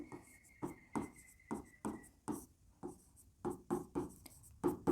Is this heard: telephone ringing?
no